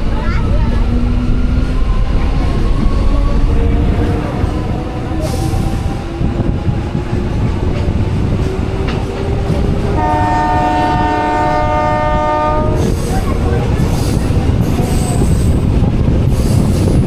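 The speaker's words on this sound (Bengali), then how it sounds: "ট্রেন আমাদের ছেড়ে যাচ্ছে বাদলপুর স্টেশন" A train pulls out of Badalpur station on the Tamluk to Digha line: loud, continuous wheel and carriage rumble with a slowly rising motor whine, then a sustained horn blast near the end.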